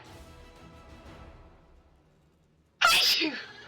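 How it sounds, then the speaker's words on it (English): A sudden loud sneeze blasts right into a close microphone after a stretch of quieter background, bursting abruptly and trailing off over about a second. "Sorry, I sneezed right into the mic there."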